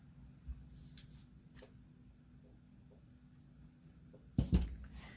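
Scissors trim material for a small handmade journal. A few sparse, quiet snips and clicks sound up close in a quiet room, followed by a louder rustling cut near the end.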